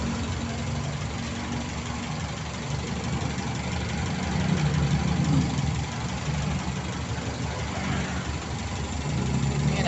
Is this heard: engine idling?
yes